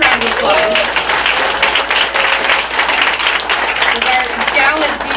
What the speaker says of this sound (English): Everybody give them a huge round of applause.